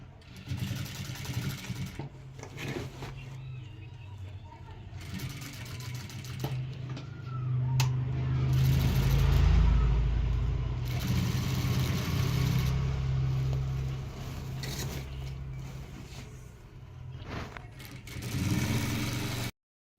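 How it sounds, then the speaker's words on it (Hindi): A sewing machine runs steadily, stitching a lehenga from the hem upward along a chalk mark, with a louder, fuller stretch midway before easing off; no one talks over it. "नीचे से ये जो लहंगा है इधर से पकड़ते हुए हमें इसमें सिलाई लगा देंगे"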